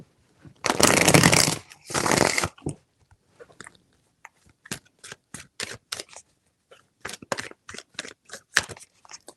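Tarot cards being shuffled by hand: two long riffling bursts up close, followed by a run of short, crisp snaps and taps as the deck is squared and cut, with no talking.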